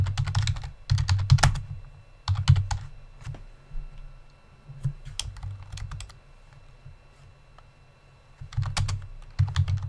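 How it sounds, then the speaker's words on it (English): Bursts of typing on a computer keyboard, quick clusters of clicky keystrokes separated by short pauses, close by and fairly quiet. "you're going to hear me typing"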